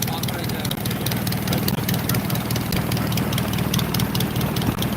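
A Ford Model A engine fitted to a Pietenpol aircraft runs steadily in its first run of the year, a loud, continuous low engine drone close by with a dense, even throb throughout.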